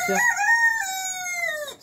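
A rooster named Rico crows once, close and loud, a single drawn-out cock-a-doodle-doo while being handled for claw trimming.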